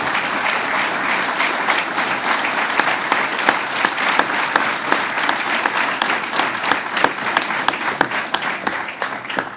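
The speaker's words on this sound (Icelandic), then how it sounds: "Gefum henni gott klapp." Audience applause fills a graduation ceremony at an Icelandic agricultural university, dense sustained clapping from a large crowd that holds steady and loud throughout without talk.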